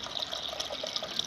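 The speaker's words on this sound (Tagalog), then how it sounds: "Lagyan natin ng tubig yung ating kaldero." Hot water pours steadily into a cooking pot, giving a continuous bright splashing rush at moderate level with no talking over it.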